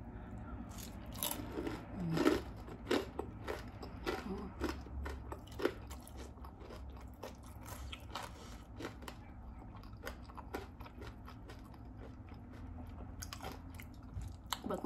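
Crunchy bites and chewing of frozen Japanese sweet potato, repeated crisp crunches spaced through the clip, close and fairly quiet over a low background hum, with no talking.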